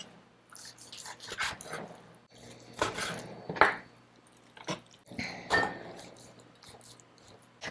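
A knife chops beef shank into small pieces on a board, giving several separate close knocks and thuds spaced irregularly with quiet gaps between them.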